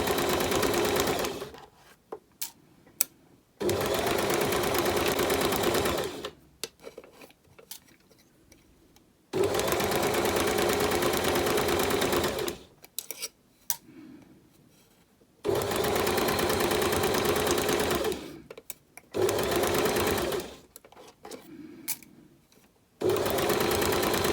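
A sewing machine stitches rouleau loops in four long, even runs separated by quiet pauses with soft handling noises, the motor close and clear.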